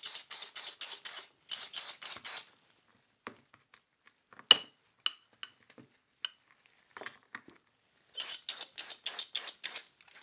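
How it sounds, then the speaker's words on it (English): Cool Care coolant sprayed onto Wahl cordless clipper blades: a burst of several short hissing sprays, then scattered clicks and metallic taps of the blades being handled, then another run of quick sprays, close and fairly quiet. "I'm going to give them a real good spray"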